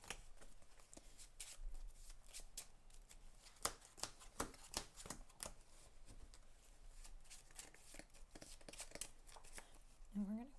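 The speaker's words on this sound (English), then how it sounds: "Okay, we're just gonna shuffle this up." Cards from the Aeons End Legacy deck-building game being shuffled at a tabletop, a steady run of brisk riffling and flicking close by, with people talking over it throughout.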